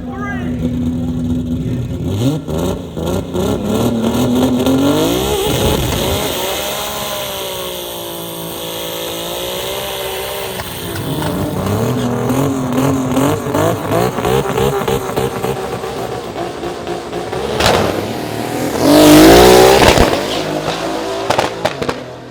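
A Mitsubishi Evo race car on a drag strip at a big Thai drag race accelerates hard through rising, shifting engine tones, loud and continuous, with an excited commentator and crowd noise over it and a sharp burst near the end.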